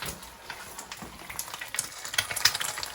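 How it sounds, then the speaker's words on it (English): Quiet, steady crackling and sizzling of an egg frying in hot oil, with tiny pops scattered throughout. "I'll show you how to make it almost like you're deep frying the egg."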